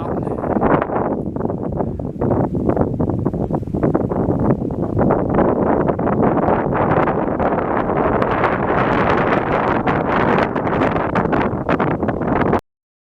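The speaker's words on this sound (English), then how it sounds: "This is the windy side of the mountain." Strong wind roars and buffets the microphone continuously on the windy side of Saddleback Mountain in Shenandoah National Park, loud and gusty, with no voices, then cuts off abruptly.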